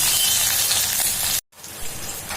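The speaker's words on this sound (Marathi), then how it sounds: "लसूण आलं तेलामध्ये चांगलं भाजून निघालं की चांगली चव येते" Garlic sizzles loudly in hot oil in a pan on a home stove, a dense crackling hiss that breaks off for an instant before resuming nearly as strong.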